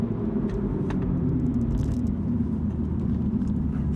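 A Mini JCW GP accelerates hard along a road, its engine a close, steady rumble with some wind and tyre roar and light rattles, with no talk over it.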